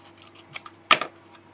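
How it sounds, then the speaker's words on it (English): A single crisp snip of scissors cutting black paper, close and fairly loud, preceded by a few faint rustles and light handling clicks, then quiet. "I'm just going to cut a piece off"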